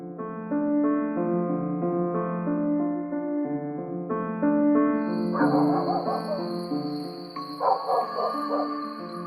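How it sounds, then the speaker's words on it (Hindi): Dogs bark and yip in two short clusters as a sound effect in a horror podcast, heard over a sustained eerie musical drone with a high steady tone. "कुत्ते भौंकने लग गए थे और रात के कीड़े भी आवाज कर रहे थे।"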